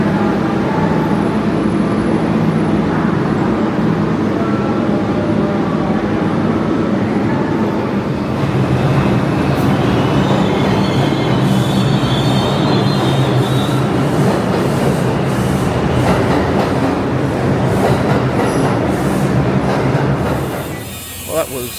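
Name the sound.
New York subway train ride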